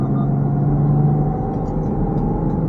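A BMW X5 switched into sport mode accelerates on a multi-lane road, its engine a steady, close, loud drone with a firm low hum that holds through the whole stretch, heard from inside the cabin with no talking.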